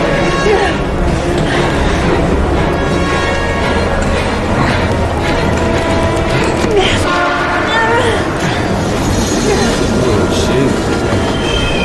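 A train in the Heavy Rain video game rumbles loudly and close, with screeching wheels and clattering cars over a dense, constant roar that lasts throughout, and voices are faintly mixed in.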